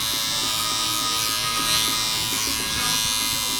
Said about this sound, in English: Now I want to be using my Andis 1 clip.